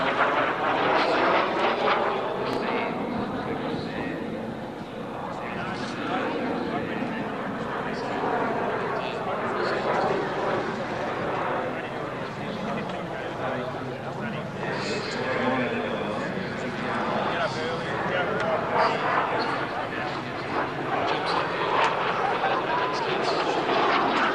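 A Soviet-bloc jet training aircraft flies at the Wings Over The Illawarra 2017 air show, its engine a steady, droning roar that swells and fades slightly beneath a commentator's voice.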